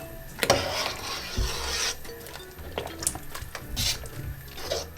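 A spoon scrapes and swishes through dried pasta in a pot of salt beef soup, giving a few close, uneven rubbing strokes with faint liquid sloshing and no talking.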